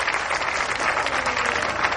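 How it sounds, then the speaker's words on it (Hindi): Audience applause at a Hindi comedy poetry gathering: dense, steady clapping from a crowd that fills the whole two seconds at an even, fairly loud level. "जोरदार तालियां बजाकर।"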